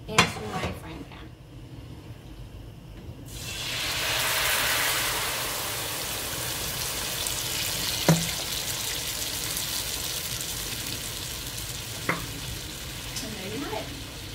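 Sauce poured into a hot frying pan erupts into a loud hissing sizzle, which settles into a steady crackle with a couple of light clinks.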